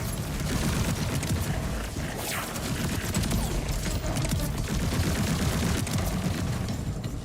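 Dense, continuous gunfire from a Borderlands gun loaded with SMG rounds and Jacobs parts, sustained at steady loudness throughout as a rapid, blurred stream of shots with no clear gaps.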